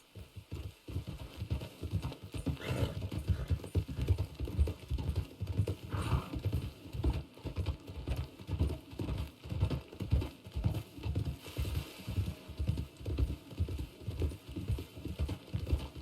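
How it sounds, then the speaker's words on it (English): Horse hooves clip-clopping in the Red Dead Redemption 2 video game, a wagon-pulling type horse walking at a steady, even rhythm of close, distinct thuds throughout, with no talk. "It looks like a horse that would pull a wagon."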